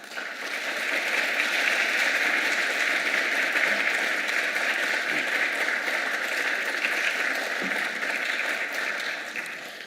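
Sustained audience applause fills a lecture hall at a talk on Kabuki and popular culture, a steady dense wash of clapping that holds evenly for about ten seconds, with no voices over it.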